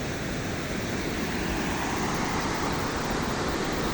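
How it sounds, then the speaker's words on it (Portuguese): A waterfall in a sunny natural spot near Santana do Itararé, Paraná, gives a steady, loud, hissing roar of falling water that stays unbroken throughout, with no voices. "Que show de cachoeira. Com esse sol lindo."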